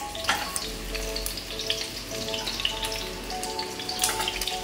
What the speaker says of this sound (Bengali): পটলগুলো ভাজতে দিচ্ছি।